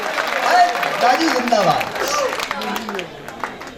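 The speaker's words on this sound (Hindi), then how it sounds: "एक बार जोरदार तालियां बजा दे भाई" An audience at a Hindi comedy poetry recital applauding and cheering, clapping under a loud voice shouting a slogan.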